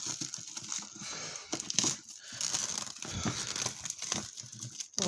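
Crinkling plastic and cardboard packaging being torn and unwrapped from a Pokémon Ultra Premium Collection Charizard box, close and continuous with rustling bursts and brief pauses, no voices.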